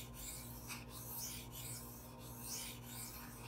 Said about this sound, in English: right off the bat I can feel the stone cutting the steel